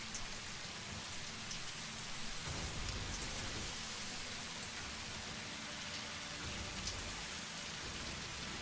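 A rain downpour in the video game Satisfactory, a steady dense hiss of falling rain that stays even and moderately quiet throughout, with no one talking.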